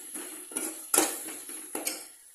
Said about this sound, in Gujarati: હવે થોડી વાર શેકી છે, તો વચ્ચે વચ્ચે આપણે હલાવતા રહેવાના ડુંગળીને